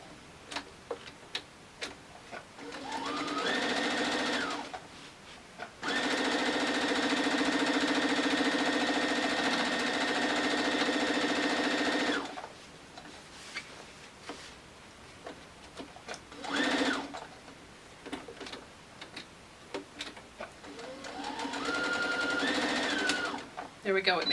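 A sewing machine stitches around a fabric grocery bag made from fat quarters, its steady motor whir running in long loud bursts separated by pauses with light clicks and handling noises.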